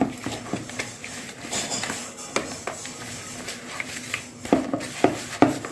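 A spoon scrapes and taps against a bowl while oil is stirred into an eggless biscuit cake batter; a run of irregular clinks and soft scrapes, close and fairly quiet, with a few sharper knocks near the end.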